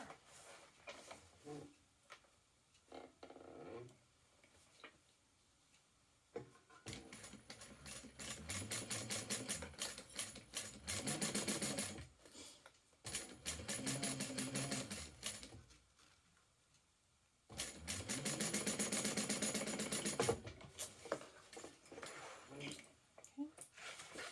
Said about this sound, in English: now we're going to sew along there